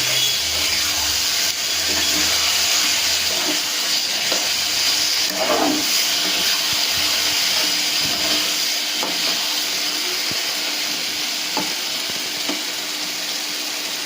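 Loitta fish being stirred and dried out in a pan, giving a steady broad hiss and steamy sizzle with occasional faint scrapes, constant and close throughout.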